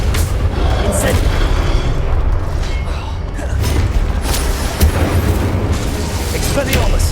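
A fiery Incendio spell bursts loudly in the Hogwarts Legacy video game, a dense rushing blast of flame amid continuous combat noise, with shouted spell incantations over it.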